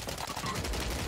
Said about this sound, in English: a lot of shots here, close